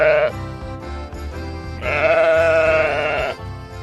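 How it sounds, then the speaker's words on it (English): Sheep bleating in a farm animal guessing game for children, two loud drawn-out bleats separated by a short quieter gap, close and clear. "Is that a sheep?"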